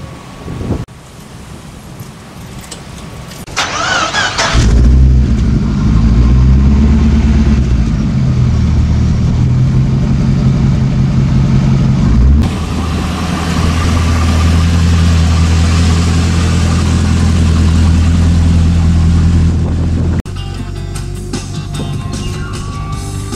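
A Holden VX SS Commodore, an ex-police car, starts up and then drives with a loud, deep engine drone. The tone shifts mid-drive and wind buffets the microphone.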